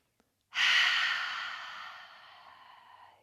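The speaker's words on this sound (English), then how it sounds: "A nice clearing, full breath in." A single full, clearing breath, one long airy exhale that starts strong and slowly fades over about three seconds, close and quiet with no talk.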